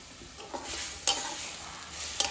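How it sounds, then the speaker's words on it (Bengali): Spice paste of ground chili, white cumin, ginger and turmeric with a splash of water, stir-fried in a pan for a fish dish. A steady close sizzle is punctuated by a few sharp stirring scrapes. "দিয়ে আমি 5 থেকে 6 মিনিটের মতো মশলাটাকে কষাবো"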